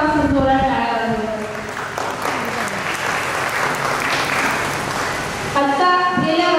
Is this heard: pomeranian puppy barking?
no